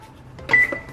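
A kitchen timer gives a short electronic beep as it is set, a single clear tone lasting a fraction of a second in a quiet kitchen.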